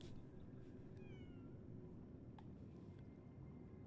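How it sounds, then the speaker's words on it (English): A small kitten in the video game Lies of P gives a couple of short, faint meows over a steady low ambient hum, with no talking. "I heard that meow."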